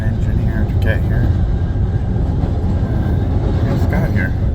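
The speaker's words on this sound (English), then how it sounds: "We're getting passed by a freight train." A steady, heavy rumble of a freight train rolling past a stopped Amtrak Auto Train, with occasional metallic squeals rising above the constant low roar.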